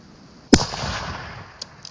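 A single sharp rifle shot cracks close by during an elk hunt, followed by a brief fading echo and a faint small knock afterward, with no talking.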